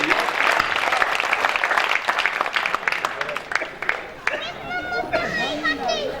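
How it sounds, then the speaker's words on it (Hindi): A seated congregation at a Jain temple gathering breaks into loud, dense applause that thins toward the end, with chatter and children's voices rising through it. "एक बार सारो सदन जोरदार तालियां से हास्य का बड़ा करिए।"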